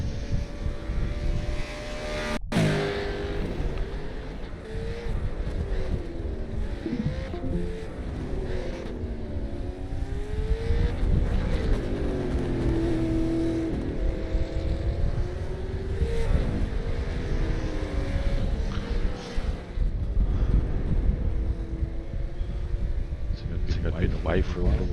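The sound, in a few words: VA supercar race car engine driving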